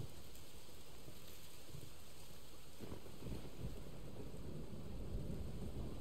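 Rain hisses steadily in a thunderstorm within Resident Evil 4 Remake, with a low rolling rumble of thunder swelling toward the end beneath the constant downpour.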